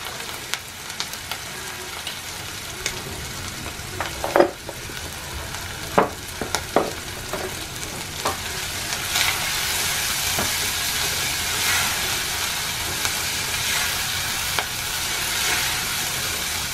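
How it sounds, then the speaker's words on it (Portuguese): Bacon and onion fry in a new pan with a steady sizzle that builds louder over time, broken by sharp clicks and scrapes of stirring, with no talking. "E aí eu vou deixando fritar o baconzinho com a cebola."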